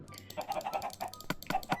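A chicken in the Minecraft FarmHunt video game, a quick run of soft clucking notes with a few sharper clicks, fairly faint and heard alone.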